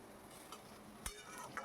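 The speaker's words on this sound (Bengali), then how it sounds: "ইঁচড় আর আলু ভালো করে ভাজা করে নেব বেশ কিছুক্ষণ ধরে নাড়িয়ে চাড়িয়ে" Jackfruit and potato frying in a pan while being stirred, a quiet, steady sizzle with a few soft scrapes and clinks of a spoon against the pan, no voices.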